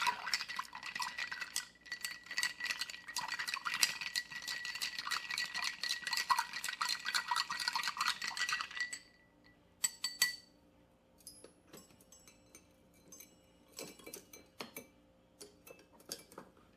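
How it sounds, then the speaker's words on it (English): Ice stirred with a bar spoon in a mixing glass for a Boulevardier cocktail, a steady close rattling clink for several seconds, then scattered lighter taps and clinks as the stirring stops. "we're going to give it a stir to help chill it"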